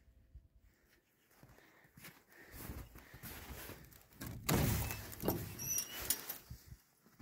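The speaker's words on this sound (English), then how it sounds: "Come on, let's go open up the door." A greenhouse door at a snowy dacha is worked open, with a few dull thunks and scraping slides building to a louder rattling clatter close by, followed by faint shuffling.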